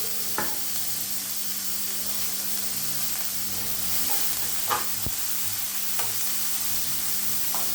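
Chopped onions fry in a hot pan, giving a steady loud sizzle and hiss with occasional stirring scrapes and taps, and no talking.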